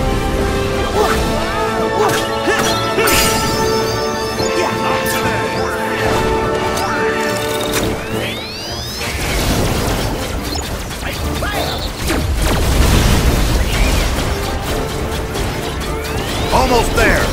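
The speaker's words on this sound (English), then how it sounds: "Perhaps if we use the cannons on those mechs." Mech cannons fire and explosions burst in the Toy Box world of Kingdom Hearts 3, a dense stream of mechanical clanks, crashes and pops layered over continuous game music and effects, loud throughout with heavier impacts late in the clip.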